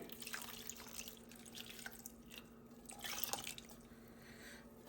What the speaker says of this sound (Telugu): ఇప్పుడు ఈ చల్లగా అయిపోయిన పాలు కూడా అన్నీ దీంట్లో పోసేసుకుందామండి